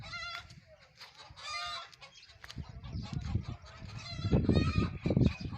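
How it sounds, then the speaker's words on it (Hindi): Chickens cluck and a rooster calls nearby, several overlapping squawks and crowing bursts over faint background murmur. "मुर्गे की आवाज़ आ रही है,"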